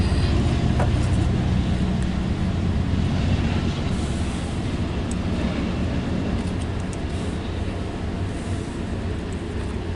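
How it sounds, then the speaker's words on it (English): Trains passing nearby outdoors, a steady loud rumble of rolling rail cars that persists throughout with continuous low-frequency roar and faint higher squeals, no talking. "Sorry for the trains."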